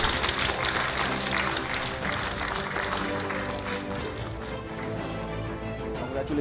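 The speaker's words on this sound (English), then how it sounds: "Ladies and gentlemen, can we have a huge round of applause," An award ceremony audience breaks into sustained applause, dense, close clapping from many hands, while music plays underneath and the clapping slowly eases toward the end.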